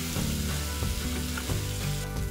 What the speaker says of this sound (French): un petit peu d'huile dans une casserole, laissez bien monter en température et mettre les carapaces à colorer